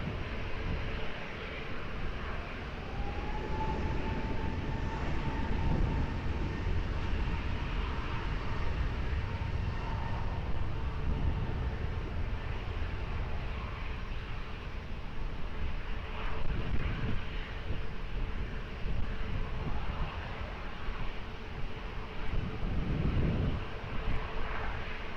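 A passenger airliner rolls down runway 20 at Lisbon Airport for takeoff, its jet engine roar a steady, broad rumble holding at even loudness throughout, with wind buffeting underneath and no voices over it.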